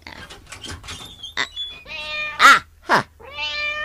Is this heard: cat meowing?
yes